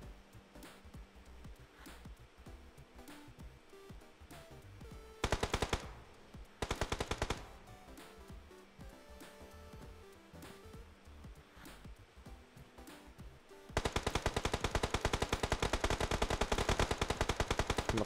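Rapid automatic gunfire rattles in a shooting video game, with short bursts early on and a long, loud sustained stream of shots near the end, close and unbroken by speech.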